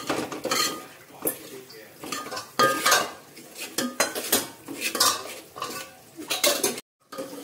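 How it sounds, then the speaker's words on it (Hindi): Mutton masala with turmeric is stirred in a pan, a metal spoon scraping and clinking against the pan in repeated strokes over a soft sizzle, close and fairly loud. "आता आपण त्याला चांगलं हलवून घेऊया"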